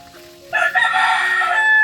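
A rooster crowing close by outdoors, one loud drawn-out call that starts after a brief quiet moment and rings on to the end.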